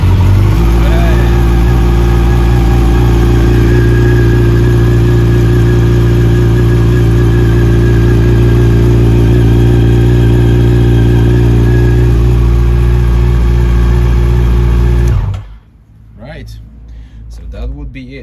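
A Yamaha FZ8n motorcycle engine runs steadily at idle after starting following a solenoid repair, loud and close with a constant throbbing drone, then cuts off near the end.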